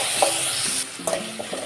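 Chopped tomato fries with crackled mustard seeds in oil in a pan, a close continuous sizzle punctuated by several quick spoon scrapes as it is stirred.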